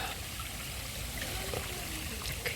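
A river flows and trickles over stones nearby, a steady rushing wash of water with small splashes, heard outdoors without speech.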